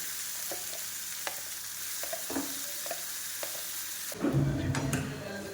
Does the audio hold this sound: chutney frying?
yes